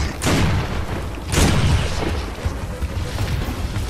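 Heavy gunfire and booming blasts erupt in the Gears of War video game, with two loud explosive bursts followed by a dense rumbling din of shots and impacts, without clear speech.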